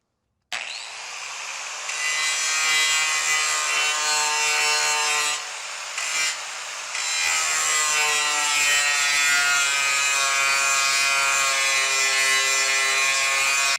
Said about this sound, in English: we are going to come up underneath, engage, and grind this thing down